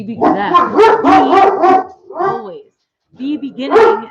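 Several dogs barking loudly and close in rapid bursts, with short yips between, pausing briefly before a final round of barks.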